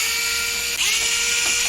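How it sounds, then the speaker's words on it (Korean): A power screwdriver whirs continuously as it loosens two screws on a DarkFlash DS900 PC case, a close, steady high-pitched drill whine with a brief shift in pitch partway through. "나사 2개를 풀고,"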